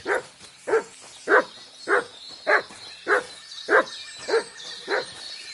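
A dog in Kingdom Come: Deliverance 2 gives eight short, evenly spaced barks at a steady rhythm. Each bark is moderately loud and close, with no talking over them.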